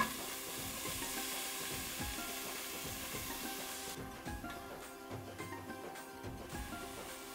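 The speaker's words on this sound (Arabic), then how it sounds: "نحط ملعقة زيت، نضيف البصل ونحمره." Onions fry in a spoonful of oil in a pan, a soft continuous sizzle with irregular low scraping and stirring knocks, fairly quiet and close, with no talking.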